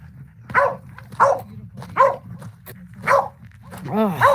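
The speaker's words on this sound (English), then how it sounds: "I can't take a barking dog constantly." A dog barks five times at irregular intervals, each bark loud and close, and the last one is drawn out into a whining yelp.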